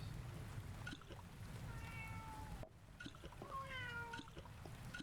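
A cat in the potion-shelving game Shelve the Potions meows twice, soft drawn-out calls over a quiet watery, trickling background.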